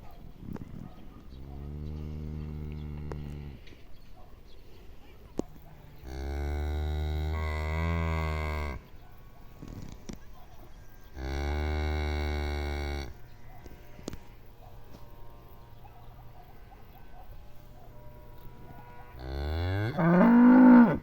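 Cows moo in several long, loud calls spaced apart in an evening village pasture, with birds cooing softly in the background of an open outdoor setting.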